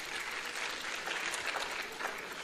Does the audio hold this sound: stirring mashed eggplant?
no